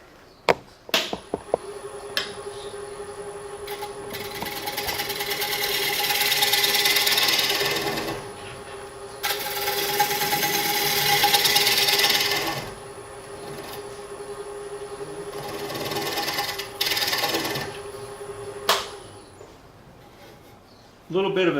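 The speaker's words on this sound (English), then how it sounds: "You know your scraper's sharp if you can come off with shavings like that." A hand scraper cuts a square wooden bowl on a lathe in a series of long, rough, hissing passes with short breaks between them, close up, under a constant high whine from the lathe.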